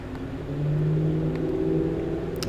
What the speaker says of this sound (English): Someone's vrooming up outside. Hear their truck super loud.